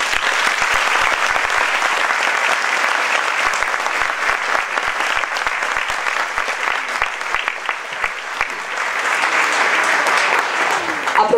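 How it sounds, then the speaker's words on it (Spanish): Sustained audience applause fills a meeting hall at a gathering of newly elected mayors in Colombia, with dense steady clapping throughout and a brief murmur of voices. "Nuevamente para él un aplauso."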